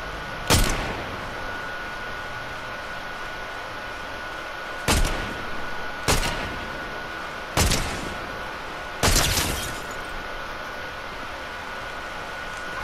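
Gunshots in a Fortnite match ring out as five sharp, loud blasts spaced unevenly over a low steady hiss, each with a brief decaying tail, the last two coming close together.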